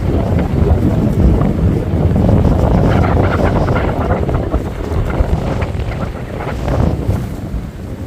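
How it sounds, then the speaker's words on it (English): Strong wind buffets the microphone in heavy gusts on a hiking trail at Swatara State Park, a loud continuous roar that surges and eases without any talking. "Certainly got windy, I'll tell you."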